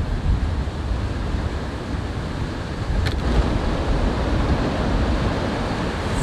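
Wind gusting across an open-water fishing spot, a continuous broad roar with waves lapping, steady and close to the microphone.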